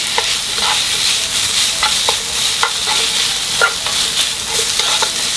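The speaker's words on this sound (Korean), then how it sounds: "어묵을 물기가 없어질 때까지 한번 볶아주세요" Fish cakes stir-fry in a hot pan over medium heat, giving a steady close sizzle broken by regular scraping and stirring strokes.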